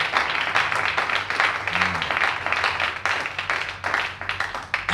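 A church congregation applauds to acclaim the Lord during a service, a steady wash of clapping hands that swells and eases over several seconds, with a faint voice or tone briefly underneath.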